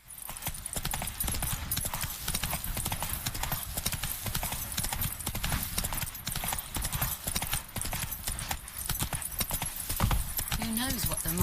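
Horse galloping in The Witcher 3, a steady rapid clatter of hooves on the ground running continuously and loudly throughout, with game ambience beneath it.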